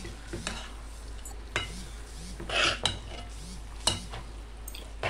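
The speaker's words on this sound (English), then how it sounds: "I will be adding this juice into the pork and saute it" Pork being sautéed with freshly squeezed lemon juice in a pan, Kerala-style pork fry, giving a steady low sizzle with repeated scraping stir strokes and light clinks of a utensil against the pan.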